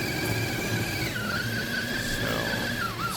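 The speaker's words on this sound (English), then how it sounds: "burn the tires up a little" An Axial SCX6 RC crawler's tires with anti-foam inserts spin and squeal continuously, a loud high whine that bends in pitch over a steady motor buzz, close by and without talking.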